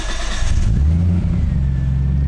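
A car fitted with a Haltech engine management system and IQ3 dash fires up as the ignition key is turned, its engine catching into a loud, steady rumble that fills the short span on its own.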